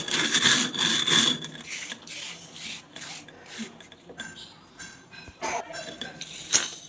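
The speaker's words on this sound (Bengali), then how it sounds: "পাটায় বেটে।" Hot roasted rice being ground into powder on a stone slab (pata), heard as close, steady rough rubbing and rasping strokes in a continuous rhythm, with a few pauses near the end.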